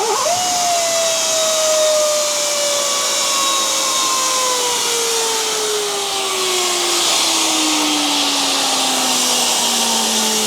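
A Mack R600 truck that sat unused for 12 years cranks on its air start valve, giving a loud, continuous rush of air with a whine that slowly falls in pitch over about ten seconds. No one speaks.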